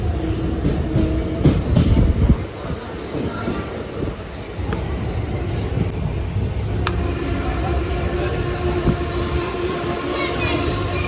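Sleeper-class train on the Kerala to Goa run pulls into Kannur railway station with a heavy rolling rumble, a faint wheel squeal and clattering near the start, and low voices in the background.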